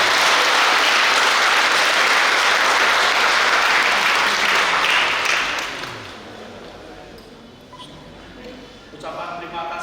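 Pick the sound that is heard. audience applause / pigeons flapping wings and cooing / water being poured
audience applause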